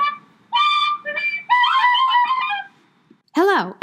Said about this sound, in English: I bought a whistle.